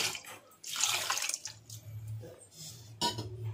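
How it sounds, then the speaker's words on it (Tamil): Water poured from a vessel into a pot of rajma rasam in a home kitchen, a splashing, gurgling pour with a few drips, fairly close and moderately quiet, with no talking over it. "இன்னும் தண்ணி கூட நம்ம விட்டுக்கலாம்"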